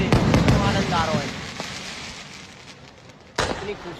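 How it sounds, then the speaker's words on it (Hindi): Fireworks burst around a temple in Barsana, a dense run of crackling pops and booms followed by a quieter lull, then a sharp fresh blast near the end, with voices faintly audible in the mix. "इतनी खूबसूरत आतिशबाजी है कि मैं क्या बताऊं"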